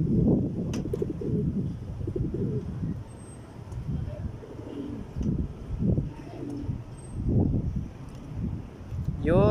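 Pigeons in a loft give repeated soft, throaty coos in low rumbling phrases, close by and fairly loud, with a few faint chirps above.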